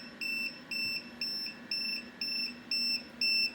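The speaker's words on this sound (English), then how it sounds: "What's beeping at me now?" An electronic beeper sounds during a load test of a Renogy 100Ah LiFePO4 battery, giving a steady series of seven or eight evenly spaced short beeps over a low hum.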